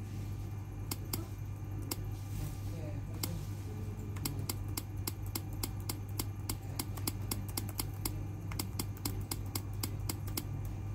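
Rapid keystrokes tapped on a Windows laptop keyboard, sharp clicks coming in irregular bursts and quickening into a dense run of taps, close up over a steady low hum.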